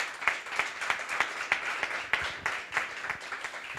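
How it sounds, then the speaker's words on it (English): Audience applause at an awards and demo day event, a steady wash of many hands clapping with sharp individual claps standing out, sustained throughout at moderate loudness with no talking. "a great applause for them, too"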